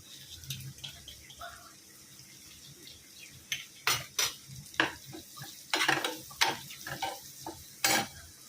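Turmeric stirred into a sizzling tempering in a pan: a steady soft sizzle under a run of sharp, close metallic scrapes and clinks from the spoon against the pan, coming in bursts through the second half.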